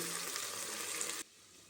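Cauliflower and potato pieces stirred into tomato frying in a pan give a loud, steady sizzle with stirring noise that cuts off abruptly near the end.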